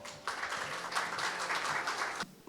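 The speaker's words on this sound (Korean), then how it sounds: "여러분 큰 박수로 환영 부탁드리겠습니다" An audience at an energy policy seminar applauds to welcome a presenter, a steady burst of many hands clapping lasting about two seconds before it stops abruptly.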